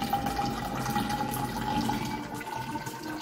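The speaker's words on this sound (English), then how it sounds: "Firstly, measure 250 milliliters distilled water in a suitable container." Distilled water is poured into a lab container for agar culture media, a steady, continuous splashing stream with a faint ringing tone from the vessel that lasts throughout.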